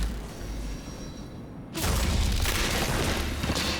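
Gunfire in the video game Nobody Wants To Die, a loud sustained burst of shots with a heavy booming rumble that starts abruptly partway through and carries on to the end, with no talk.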